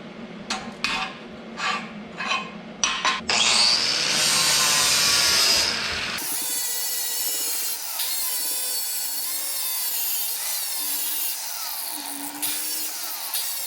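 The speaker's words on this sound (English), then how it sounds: "it's not a grinder, it's a cutoff disc, but it works really good taking off mill scale" An angle grinder fitted with a cutoff disc grinds mill scale off steel while a gantry crane is being built. A few knocks lead into a loud, harsh grind that settles into a steady whining drone.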